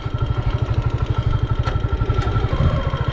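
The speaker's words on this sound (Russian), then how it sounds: "Ну, двигатель работает без проблем." A Racer Tourist 150 motorcycle engine runs at idle close by, a loud, even, rapid thumping putter with mechanical clatter, steady throughout with no talking.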